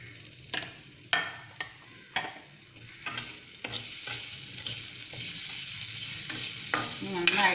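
Sugar and raisins sizzle and fry in a pan while a spoon stirs them, scraping the pan in a series of sharp strokes over a steady close-up crackle, with no talking.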